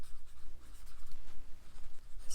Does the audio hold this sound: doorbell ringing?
no